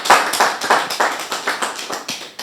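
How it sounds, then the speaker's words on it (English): An audience at a Lagos political gathering claps together, a brisk run of sharp, close hand claps in an uneven rhythm that thins out toward the end. "Can we clap for our governor?"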